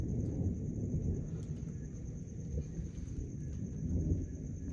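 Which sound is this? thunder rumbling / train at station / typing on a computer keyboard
thunder rumbling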